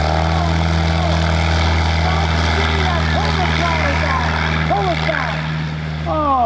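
A propeller airplane's engine drones steadily and loudly through an airshow comedy flying act, with a strong low hum and shifting pitch sweeps as it maneuvers, while people talk excitedly over it.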